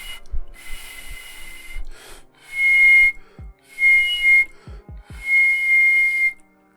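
Human mouth whistling, four sustained clear tones in short bursts separated by pauses, close and fairly loud, with breathy hiss and a few soft clicks between them.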